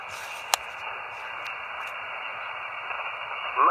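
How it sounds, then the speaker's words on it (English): Static crashes on a low-power ham radio frequency, a steady band-limited hiss broken by a sharp crackle and a few fainter pops, with a brief rising squeal near the end. "Got a few static crashes on the frequency."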